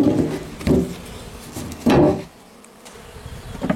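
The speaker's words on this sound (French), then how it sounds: "L'essaim est bien dedans, il n'y a pas de souci." A honeybee swarm buzzes inside a Japanese-style hive in April. The droning hum is close and swells in a few louder pulses, with wooden knocks and shifting between them.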